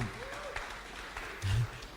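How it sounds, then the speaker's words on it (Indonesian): Church congregation gives a round of applause for Cici: scattered, fairly soft clapping mixed with voices, uneven and thin rather than a full roar. "Kasih tepuk tangan buat Cici dulu."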